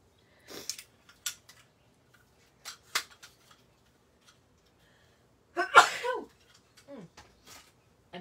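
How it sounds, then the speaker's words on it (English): A few quick, sharp sneezes in a quiet room, the loudest near the middle, with small breathy sounds and faint clicks between them. "Sometimes when I sneeze, it's more than one"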